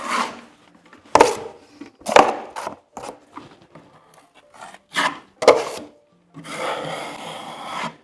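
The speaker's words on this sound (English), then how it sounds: "If you went square, you're just going to scrape it. Nice and gentle." A knife gently scrapes across a plaster wall in a series of short, close, raspy strokes separated by pauses, ending in one longer, steadier scrape.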